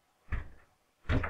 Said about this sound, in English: The door doesn't shut completely.